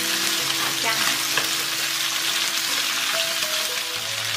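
Golden pork ribs frying in oil as ginger and garlic go in, giving a loud, even sizzle with stirring movement running continuously.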